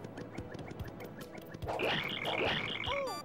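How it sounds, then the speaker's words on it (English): Rhythmic game ambience with periodic croaking chirps, cricket or frog-like, in Paper Mario: The Thousand-Year Door, steady and moderately loud, joined midway by brighter repeating chime-like tones. "We still have that cricket sound."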